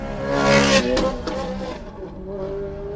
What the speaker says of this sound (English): Just using high revs, he's not going particularly fast.